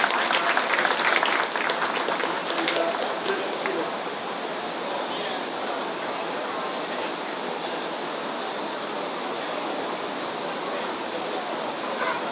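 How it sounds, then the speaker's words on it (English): A crowd at a 4-H poultry show at an Iowa county fair applauds the exhibitors, with loud dense clapping at first that gradually thins into a steady, softer patter filling the hall. "Give them all a big round of applause."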